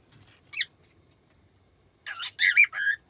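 A pet cockatiel squawks, one short shrill call followed after a pause by a burst of three or four loud, close, harsh squawks in quick succession.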